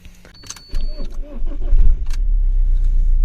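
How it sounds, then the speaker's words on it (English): An Alfa Romeo GT or 147 diesel, hood open after EGR valve cleaning, cranks briefly and catches, then settles into a loud, steady, low idle up close, with a little background voice at the start. "let's start the engine"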